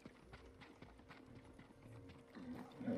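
Horse hooves clip-clopping in the samurai video game Ghost of Tsushima, a steady trot under quiet game ambience that grows slightly louder toward the end.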